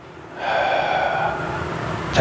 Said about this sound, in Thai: หายใจเข้า พุทหายใจออก